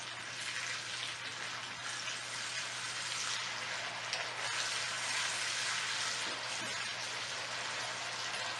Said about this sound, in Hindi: जिंजर गार्लिक पेस्ट को हमने 2 मिनट तक फ्राई करना है प्याज के अंदर।